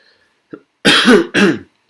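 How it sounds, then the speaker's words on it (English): A short throat clear followed by two harsh, close coughs in quick succession, with silence around them. "if I'm coughing, it's not"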